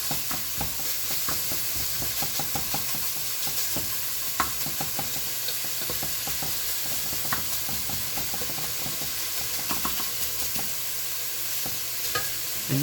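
Bacon sizzles steadily in a pan as its fat renders for a minestrone soup, with an even crackle and frequent small pops and stirring clicks, close and continuous with no talking.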